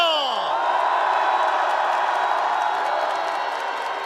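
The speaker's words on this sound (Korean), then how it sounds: "헌재를 위해 뜨거운 응원의 박수를 보내줍시다" A political rally crowd cheers, whoops and applauds in a loud, continuous wash of clapping and shouting that stays steady throughout, with a few whistle-like voices rising at the very start.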